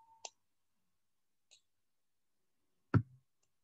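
A computer mouse clicking: three sparse, sharp clicks spaced well apart, the last one louder and fuller, close and alone in silence.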